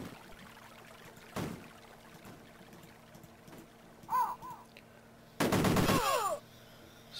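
Gunfire in the Amiga game Cannon Fodder: a single sharp shot, then a long rapid burst of firing, with chirpy game effects in between, loud against a low background hum.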